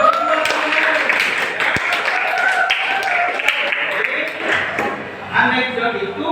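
Students in a classroom break into applause during a lesson, a steady wash of clapping that carries on while a voice talks over it.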